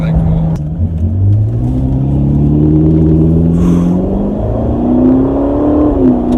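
A Ferrari California T engine hums and rises in pitch as it accelerates through gears from inside the cabin, with voices talking over the steady drone.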